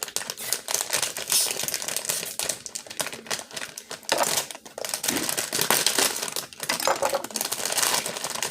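Snickers mini candy bars in their wrappers are handled, opened and set on a table, making busy crinkling, crackling packaging sounds with light taps, close and continuous throughout.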